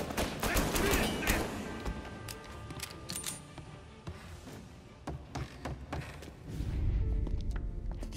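Gunshots in Mafia Definitive Edition: a scattered mix of sharp cracks and quick bursts at moderate distance over a rumbling background, with some clinking and shuffling in between.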